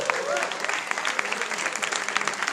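Steady applause from a crowd at a tech meetup fills the room, dense clapping throughout with a few voices faintly beneath it.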